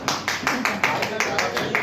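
An audience at a Hindi-language speaking event claps in a steady rhythm, with about eight evenly spaced beats of applause close by, each one crisp and equally loud.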